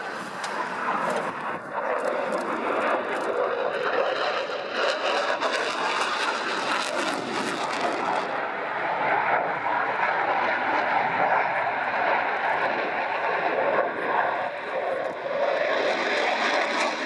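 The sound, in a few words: Polish Air Force jet flying an airshow display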